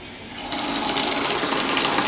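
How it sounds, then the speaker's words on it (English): Water rushes through a refrigerator's inline water filter line as the supply is turned on, a steady close hiss that begins after a brief quieter moment and has faint sputtering, with no voices. "Now we're going to turn our water on. Turn it on slow, make sure we don't have any leaks anywhere."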